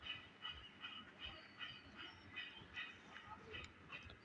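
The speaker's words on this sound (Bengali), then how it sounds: "ওই যে ট্রেন গাড়ি চলে যাচ্ছে" A train rolls slowly past, its wheels giving a faint, steady clickety-clack rhythm of evenly spaced beats heard from some distance, with a voice present at low level.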